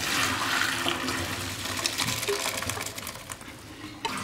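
Water from boiled macaroni gushes and splashes steadily as the pasta is drained through a strainer, a continuous close pouring rush with small clinks, and no voices.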